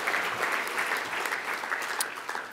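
A conference audience gives sponsors a round of applause, a dense, even wash of clapping that holds steady from start to finish without voices.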